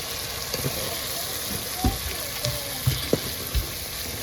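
Fish curry sizzles in oil once its water has cooked off, a steady close frying hiss broken by a few soft knocks and clinks of stirring.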